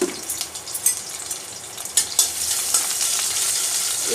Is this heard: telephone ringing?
no